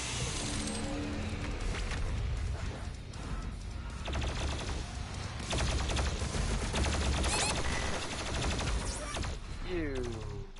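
The BFG 10,000 cannon in the Doom Eternal video game unleashes loud, repeated gunfire and clanking mechanical bursts over a constant roar, ending in a rising electronic whine.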